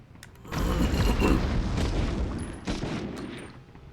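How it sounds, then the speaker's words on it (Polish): A grenade goes off in the retro first-person shooter Medal of Honor: a sudden heavy blast after a quiet half-second, then a long rumbling roar that tails off with a second smaller burst near the end. "Rzucili granat."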